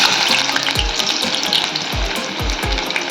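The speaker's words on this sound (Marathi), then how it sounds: "आता आपण हे बघा तेल तापलेलं आहे, त्याच्यात आपण आता कांदा टाकूया." Onion goes into hot oil for a fresh fish gravy and crackles in a loud, dense sizzle up close, with several soft thumps of pieces dropping in and no voices.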